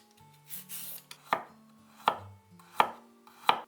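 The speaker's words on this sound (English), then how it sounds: "Cut all the vegetables and fruits into small pieces." A knife chops bell peppers, cucumber, carrot and fruit into small pieces on a board. Four crisp, close chops land about a second apart, with quieter rubbing and shifting between them and no talking.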